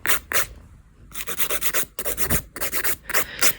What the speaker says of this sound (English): So I'm going to use 100 grit file and we're going to remove all the gel polish by hand.